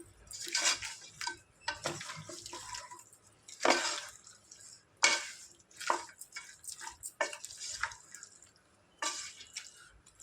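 Mutton curry with chili powder and tomatoes being stirred in a pot, irregular clinks and scrapes of a spoon against metal with soft wet squelches, close and fairly quiet, no talking.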